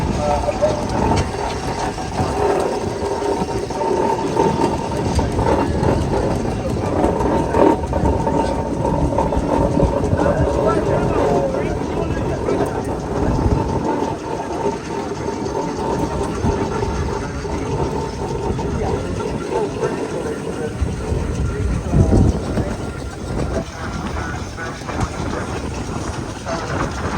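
Several steam engines run at a county steam show, producing a continuous mechanical clatter and rhythmic clanking with a faint tonal hum, steady throughout amid outdoor show ambience.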